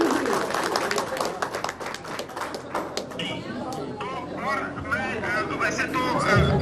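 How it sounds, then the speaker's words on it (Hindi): Audience clapping at an engineers' building inauguration at a university, dense clapping at the start that thins out, with voices talking over the latter part. "इसके लिए आप सब जोर से ताली बजाएं इंजीनियर राजकुमार के लिए।"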